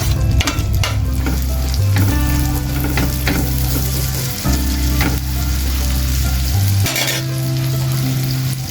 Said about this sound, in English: So I just add my onions and cook for some time.